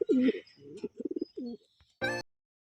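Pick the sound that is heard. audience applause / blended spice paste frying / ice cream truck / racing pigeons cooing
racing pigeons cooing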